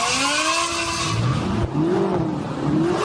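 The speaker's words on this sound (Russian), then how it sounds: "Водители БМВ, как это принято сейчас называть, дрифтуют прямо на проезжей части." BMW cars drifting on a city road in the center of Grozny during a wedding procession, with squealing tires and revving engines sweeping past loudly and continuously, rising and falling pitch as they slide.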